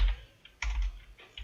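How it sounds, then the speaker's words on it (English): Keystrokes on a computer keyboard as a name is entered into a spreadsheet's name box, heard as a few quick clustered taps with short pauses between them, close and fairly clear with no talking. "So I'm just typing the name in the name box."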